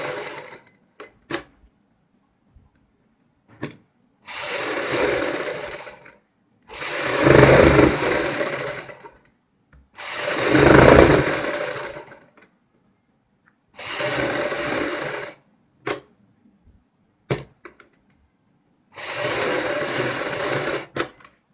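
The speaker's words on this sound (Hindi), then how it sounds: "इस साइड हम सिलाई लगाएंगे।" Sewing machine stitching a kurti collar, running in repeated bursts of steady whirring of about two seconds each, separated by silences and brief clicks, close and loud.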